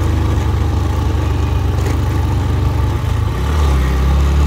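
A motorcycle engine labours up a steep hill road in first gear, loud and close with a continuous low drone, then the pitch deepens and swells as the rider pushes harder near the end.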